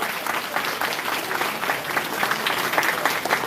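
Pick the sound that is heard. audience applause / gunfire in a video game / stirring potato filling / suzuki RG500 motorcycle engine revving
audience applause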